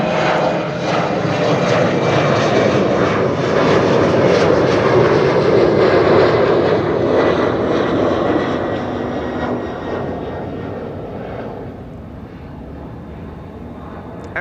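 An airliner's engines roar steadily at Amsterdam Schiphol Airport, a broad sustained rumble that swells and then slowly fades as the aircraft moves off.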